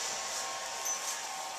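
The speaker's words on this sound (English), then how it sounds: "You can hear the hair dryer." A hair dryer runs on its low setting close to a young foal during imprinting handling, giving a steady, even high-pitched whir and hiss with no voices over it.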